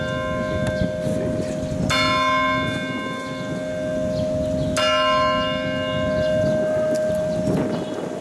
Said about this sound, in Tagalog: So ni bagting na ang atong kampana diri sa Katedral sa Kapitan.